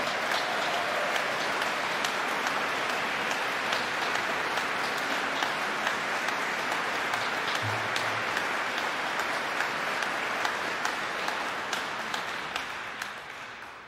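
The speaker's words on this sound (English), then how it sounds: "Big round of applause to all the choirs" Audience applause for youth and adult choirs at a choral festival gala, a long, dense, steady ovation of many hands that continues evenly for several seconds and then slowly tapers off at the end.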